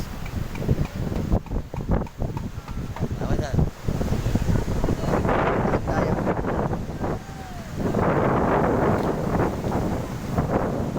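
Big waves and strong wind after a typhoon pound the shore near a jetski spot, with steady roaring surf and heavy gusts buffeting the microphone, loud and continuous; a voice speaks briefly at the start.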